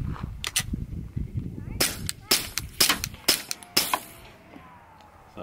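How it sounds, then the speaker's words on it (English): A suppressed pistol fires 9mm rounds through a .45 suppressor, giving a string of sharp, close reports at uneven intervals, each with a brief ringing tail. "Also 9mm in the 45 suppressor though. So, to me, it sounds noticeably different."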